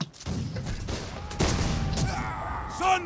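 Massed musket volley in a line-infantry battle game, a ragged burst of overlapping shots rolling out over about a second, followed by further scattered reports and battlefield noise at a distance.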